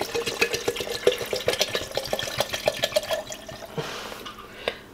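Water gurgles and splashes as it is poured into a bottle, bubbling rapidly before trailing off to a few drips; close and fairly quiet.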